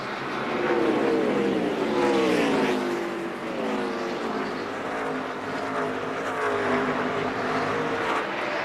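NASCAR race cars at the 2003 Funai 250 roar past in a sustained, loud engine drone, with pitch sweeping up and down as the cars pass and overlap, steady throughout with no talk.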